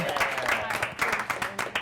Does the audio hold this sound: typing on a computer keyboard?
no